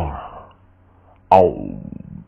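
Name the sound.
voice imitating a roar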